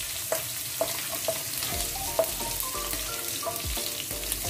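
Cinnamon, fennel and cloves fry in a pan with a steady hissing sizzle, while a spoon scrapes and taps now and then as the spices are stirred.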